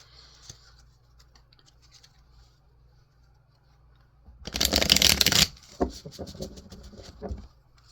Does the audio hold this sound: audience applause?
no